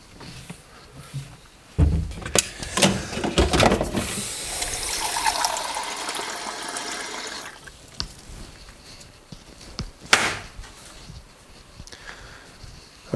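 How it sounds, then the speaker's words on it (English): A small jug tips water into a container with a close, splashy fill that swells for a few seconds, then thins to dribbles, with scattered knocks and handling sounds around it. "So here we have a little jug of water, and I'll pour some in."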